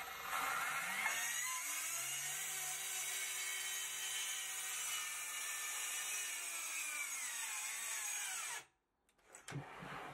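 A Parkside Performance plunge saw cuts through wood with a loud, steady motor whine that holds for about eight seconds, then cuts off abruptly, leaving a brief quiet gap before a short rattle.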